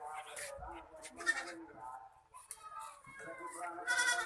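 Goat kid bleating in short, repeated bursts close by, mixed with people talking and background noise during a comedy magic performance.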